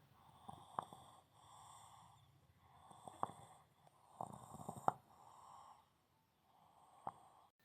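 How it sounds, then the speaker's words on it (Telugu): Rhythmic rasping snores from a chicken with a respiratory illness, repeating in bursts every second or so with sharp clicky peaks, fairly faint and with no talking. "మీరు చూసుకోవచ్చు ఒకసారి బిఫోర్ కోడి ఎలా గురక పెడుతుందో"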